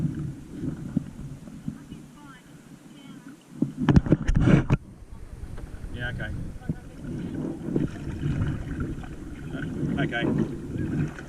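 Kayak fitted with an electric steering system being paddled on open water, with splashing and wind buffeting the microphone throughout and a brief louder burst of knocking and splashing near the middle, with a short spoken word.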